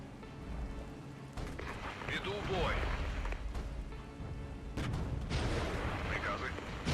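Artillery fires in the wargame Regiments with deep booming blasts and rumbling impacts over a dense battlefield roar. A few distinct heavy shots stand out near the middle and end, with some voices mixed into the din.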